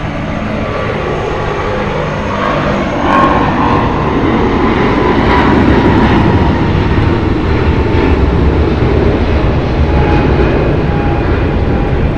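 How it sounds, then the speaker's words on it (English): A 28-year-old United Airlines Boeing 777-200 departing LAX for Honolulu, a loud continuous jet engine roar that swells after a few seconds and stays strong and close, with no talk. "Going to be departing here on the south side is going to be United Airlines flight 1158 going to Honolulu. It's a Boeing 777-200."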